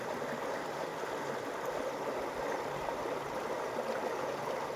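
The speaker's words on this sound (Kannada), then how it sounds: "ನೀರು ಈ ರೀತಿ ಹರಿದು ಬರತ್ತೆ ನೋಡ್ರಿ" Constant rushing of the Krishna River flowing, an even, moderately loud wash with no voices and no break.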